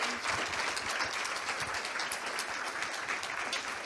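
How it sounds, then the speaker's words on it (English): A conference audience at an IEPRS session gives a speaker a steady round of applause, even dense clapping heard throughout at moderate loudness, without voices. "give it one more round of applause for Dr."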